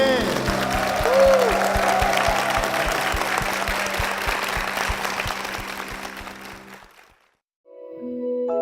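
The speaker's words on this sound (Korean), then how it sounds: "주님께 영광의 박수를 드리겠습니다" A church congregation at a Korean service claps together in praise, a sustained rhythmic burst of applause that fades out and stops, followed by a brief gap before music resumes.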